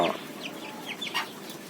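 Backyard native village chickens being raised for meat give a few short, soft clucks and chirps, faint and scattered across a quiet outdoor background with no talking.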